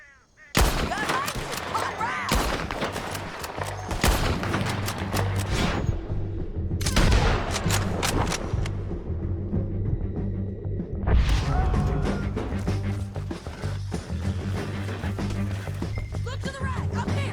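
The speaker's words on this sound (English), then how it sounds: "Let's just start shooting." Gunfight in Red Dead Redemption 2, loud repeated bursts of gunshots and booming blasts in rapid volleys, with brief lulls between clusters, and people talking underneath.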